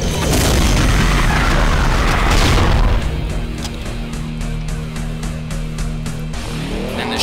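A BFG fires in Brutal Doom 2, a loud roaring blast and explosion that fills the first three seconds, then eases into a lower rumble with scattered game sounds and no talking.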